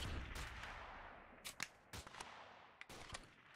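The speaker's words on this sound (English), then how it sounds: "Seems to be a guy like right there behind the sandbags, just shooting through them" Gunfire from an enemy shooting through sandbags in Freeman: Guerrilla Warfare, a few sharp separated shots over a steady noisy background, fairly faint and distant.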